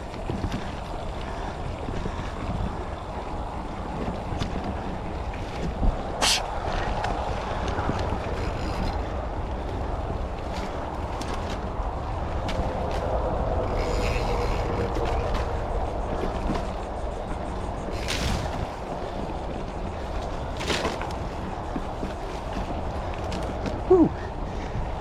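Wind rushes steadily across an open section of the Spruce Creek mountain bike trail, a loud continuous buffeting broken by occasional clicks and knocks from the ride.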